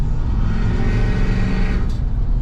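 A retuned Ford F-250 truck engine revs hard with the pedal floored, a steady loud drone held close to the microphone without easing off.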